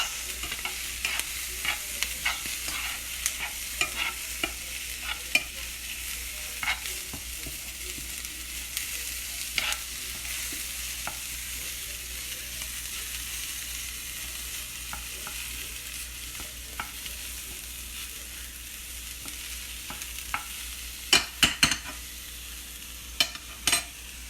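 Chicken and vegetables cook on a stovetop with a continuous soft sizzle, and a few sharp stirring clicks and utensil taps come through now and then, with no talking.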